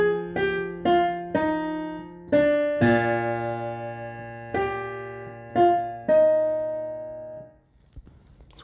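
Piano playing the second part of a song, a slow phrase of separate struck notes and chords ringing out, close and clear with no talking.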